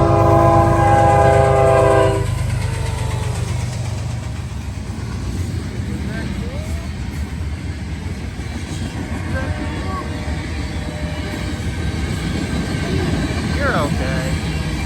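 A loud freight train passes close by, its horn blaring in a sustained chord for the first couple of seconds before the heavy rumble and clatter of the cars continues steadily, with a voice briefly heard.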